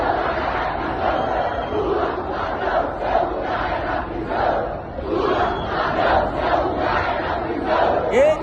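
An outdoor crowd at an airport booing and jeering loudly and continuously, a dense roar of many voices with rising swells, no single speaker standing out.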